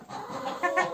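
A young laying hen clucks softly in a farmyard, giving a couple of short, close throaty calls near the end of the brief moment.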